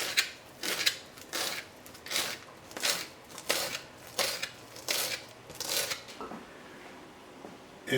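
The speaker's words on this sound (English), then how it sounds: "And now I'm going to cut this parsley" Fresh parsley being cut with a knife on a board: a close, steady series of about a dozen rhythmic chopping strokes, with no talking.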